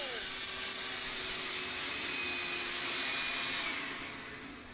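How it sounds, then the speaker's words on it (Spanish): A wet vacuum with its filter removed sucks water out of a toilet tank, giving a loud, steady whooshing roar with a slurping, gurgling edge that eases off slightly at the end. "Vamos a aspirar el agua. Para la aspiradora, para que no se dañe, le quitamos el filtro."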